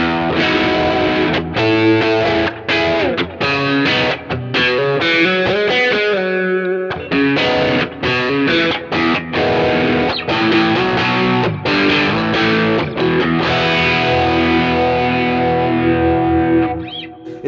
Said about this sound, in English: let's hear it with the cleaned up version of the KOT and the KLON